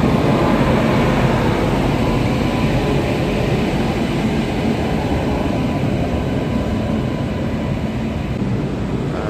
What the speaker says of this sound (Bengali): দেখতে পাচ্ছেন আপনারা ট্রেনের গতি আস্তে আস্তে বাড়ছে।